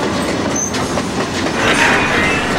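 A train rolls along rails with a steady, dense rumble and faint clickety-clack, loud and close throughout, with some brief high squeal near the start.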